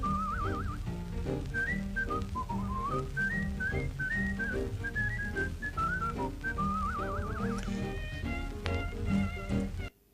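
A 45 rpm record played back sped up at 78 rpm gives high-pitched, chipmunk-like music with a whistled melody line over a busy accompaniment, steady and moderately loud, cutting off at the end.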